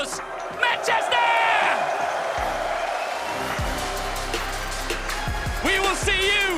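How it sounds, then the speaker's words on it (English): A crowd cheers and whoops in a large arena at an esports major grand final in Manchester, with scattered shouts and sharp bursts over a continuous roar of noise. "Give yourselves a round of applause. Manchester!"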